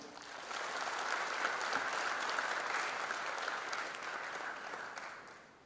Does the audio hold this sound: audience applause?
yes